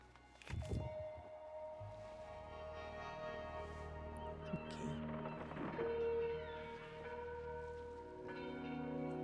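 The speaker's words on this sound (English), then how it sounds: "Apparently the big bell calls our boat." A big bell tolls in the puzzle game Monument Valley 3, a sharp strike followed by long ringing overtones, with further softer strikes and chimes layered over quiet game ambience.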